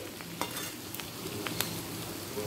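Poppy seed paste goes into lightly browned onions frying in oil, bringing a close, steady sizzle with several quick spoon scrapes and clinks, and no voices.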